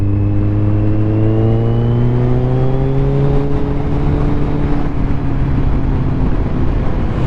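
A Kawasaki Z1000R motorcycle engine runs steadily and loudly up close, its pitch rising as the bike accelerates, then holding a sustained drone.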